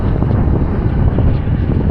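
Loud, steady wind roaring and buffeting close to the microphone in rain on a cycling trip in Lithuania, a dense continuous rumble with no pauses and no voices.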